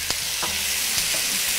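Sliced jalapeno pepper and potato frying in a pan for a frittata: a loud, bright sizzle with a few clattering stirs and knocks, steady over the short stretch, no voices.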